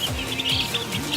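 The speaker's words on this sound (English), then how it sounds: "These are the baby chicks." Baby chicks chirp steadily at moderate volume with short repeated peeps over a soft background hum.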